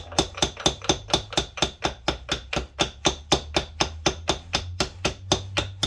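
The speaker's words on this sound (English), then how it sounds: "Gentle taps while spinning the gear." A rapid, steady series of light taps from a non-marring hammer on a metal gearbox sleeve, about four per second, close and evenly spaced with a faint ringing.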